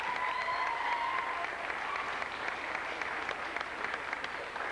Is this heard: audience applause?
yes